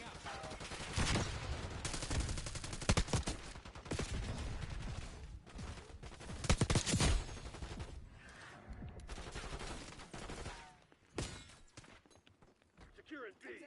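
Rapid gunfire, automatic bursts and grenade blasts from a Call of Duty match crackle in dense, uneven volleys, with brief lulls between clusters of shots and faint footsteps underneath.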